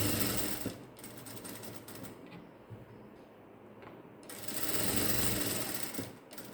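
A sewing machine runs a quarter-inch seam on a hand-design pattern in blue thread, its motor whirring steadily up close with a short slowdown midway, then picking back up.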